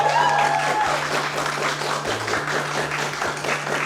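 An audience at a speedrun charity marathon event breaks into sustained applause and clapping, a dense steady roar of many hands lasting throughout, loud and close.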